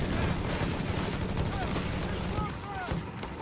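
Rifle and BAR automatic fire crackles in a Company of Heroes 3 battle, riflemen pushing back Jaeger infantry; dense overlapping bursts and pops continue throughout, with occasional heavier booms and a faint voice underneath.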